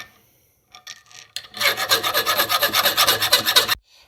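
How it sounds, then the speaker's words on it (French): Hand filing on an MBK 51 moped engine part, a steady series of close, loud rasping strokes in quick rhythm after a few faint scrapes, then a sudden stop. "Donc on va limer ici et là, sans toucher à la collerette"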